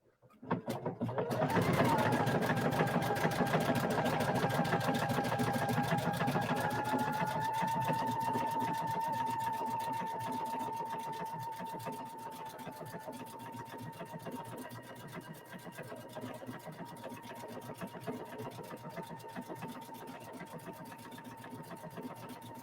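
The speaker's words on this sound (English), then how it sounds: "So I'm going to start to stitch this out." A creative icon 2 sewing and embroidery machine stitches steadily, a fast, even mechanical whir and rapid needle clatter that starts abruptly and continues close up, settling slightly quieter after the first several seconds.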